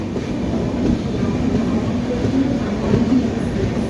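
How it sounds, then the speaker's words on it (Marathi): An oncoming train passes close by near Thane station, a steady low roar of wheels and carriages with faint clatter throughout. "समोरून कोणती तरी ट्रेन जात आहे"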